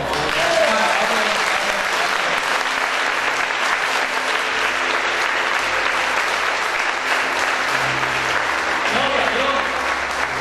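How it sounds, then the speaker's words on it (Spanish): A church congregation breaks into loud, sustained applause, dense clapping filling the room throughout with a faint murmur of voices underneath. "Dale un fuerte aplauso."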